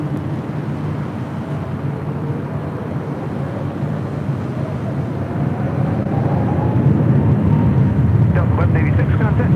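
A jet airliner taking off from a runway at LAX, a loud steady roar rising gradually over the whole stretch, heard from a distance with a broad rumbling low end.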